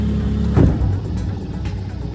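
An outboard motor on a Catalina 22 sailboat is given gas, its engine note swelling in a short, close rev before settling back to a steady hum.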